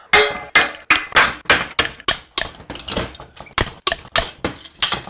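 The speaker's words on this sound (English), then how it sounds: "How to disassemble a wheel." Spokes being removed from a YZ250 motorcycle wheel during disassembly, a run of sharp metallic clanks and clinks repeating roughly every half second, loud and close with no talk.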